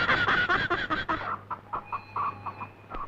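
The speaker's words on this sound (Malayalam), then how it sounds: "എടാ കോസറണ്ണ, ഇത് കാശ് കൊടുത്ത് മേടിച്ച കോഴിയാണ് കേട്ടാ." A chicken clucking close by in a quick run of short calls that slows into scattered, softer clucks, with no talk.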